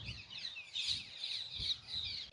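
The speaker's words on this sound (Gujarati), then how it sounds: "પક્ષીઓનો કલરવ" Birds chirp in a cool village morning, a busy high twittering chorus that carries throughout at moderate distance, with soft low rustles underneath.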